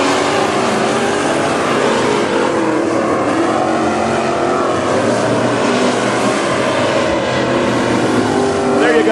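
WISSOTA Midwest Modified race cars thunder around Princeton Speedway, a loud, unbroken engine roar that holds steady throughout as the pack runs laps.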